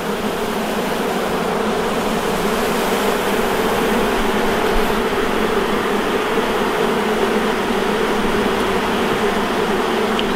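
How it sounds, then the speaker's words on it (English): Dense, continuous buzzing of a large mass of honey bees close by during a hive inspection, a steady droning hum with no pauses and no voices. "There's so many bees"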